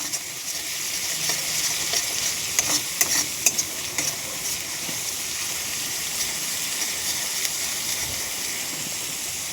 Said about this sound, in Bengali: দেখুন মশলা যত কষানো হবে তত টেস্টি আসে।